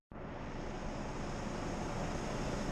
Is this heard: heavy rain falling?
no